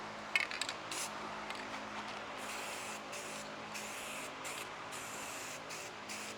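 Spray gun laying a medium-to-wet second coat on the bezels and panels of a car with 39-year-old paint, a steady close hiss running unbroken with faint clicks and no talking.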